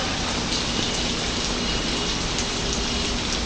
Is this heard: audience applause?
no